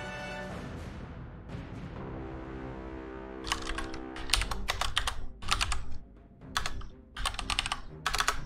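Bursts of rapid keystrokes on a computer keyboard come close and clear during an online game match, arriving in clusters with short pauses between them.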